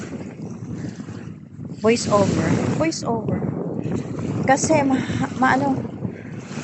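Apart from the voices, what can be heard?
strong wind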